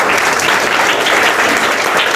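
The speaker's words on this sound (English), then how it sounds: "Please clap for sir." An audience at a book launch event applauds the chief guest, a steady, thick wash of many hands clapping at once, close and loud for the whole moment.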